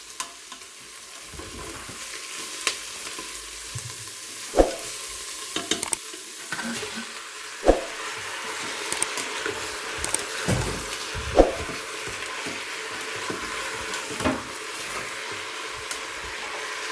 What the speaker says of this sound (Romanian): o să adăugăm morcovii și carnea. Bineînțeles, o să amestecăm în continuare